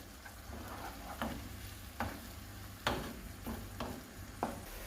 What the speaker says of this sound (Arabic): نزيد نقليها حوالي 5 دقائق